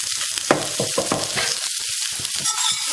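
Chopped capsicum, curry leaves and tamarind sautéing in oil in a pan, a continuous sizzle with rhythmic spatula stirring scrapes close by.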